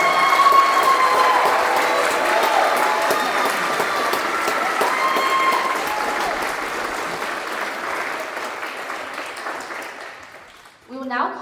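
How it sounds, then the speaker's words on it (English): An audience at a JROTC battalion award ceremony gives the cadets sustained applause, a dense wash of clapping that holds steady and then tapers off near the end. "please give our cadets a big round of applause for their outstanding performance this"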